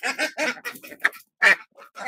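Domestic laying ducks being sorted one by one give harsh, nasal quacks and grunting calls in quick, uneven bursts, close by and fairly loud.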